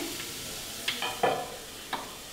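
A soft, steady sizzle of potatoes frying in a pan, with a few scraping stirs of a spatula against the metal.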